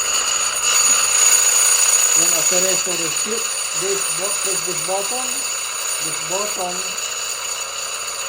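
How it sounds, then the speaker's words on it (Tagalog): A buzzing alarm horn from an alarm control circuit sounds in short repeated bursts, fairly loud, alongside someone speaking and a steady background hum. "amber flashing alarm is humming"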